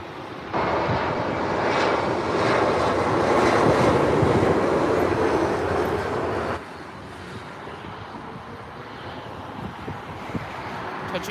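An Embraer 175 airliner touching down late on runway 24R at LAX, a loud, broad jet roar that holds steady for several seconds, then drops abruptly to a lower, steadier rumble as it rolls out.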